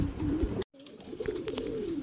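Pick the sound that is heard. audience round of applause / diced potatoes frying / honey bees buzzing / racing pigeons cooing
racing pigeons cooing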